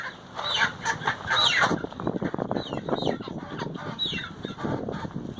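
Several chickens cluck and squawk in overlapping bursts, with short rising calls breaking through a busy farmyard background.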